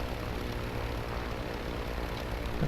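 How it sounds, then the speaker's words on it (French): Continuous roar of a jet airplane in the video game Just Cause, a dense, steady engine drone that stays loud and unbroken throughout with no voices over it. "vu que c'est un avion réacteur et que moi je suis un pauvre coucou"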